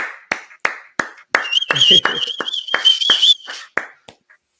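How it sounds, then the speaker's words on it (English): A small audience claps for Professor Markle at a hip hop event, with scattered, distinct handclaps spaced apart and a sustained whistle or cheer rising through the middle before the clapping tapers off. "Please give a big round of applause to Professor Markle."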